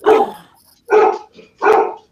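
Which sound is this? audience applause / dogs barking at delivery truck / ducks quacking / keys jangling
dogs barking at delivery truck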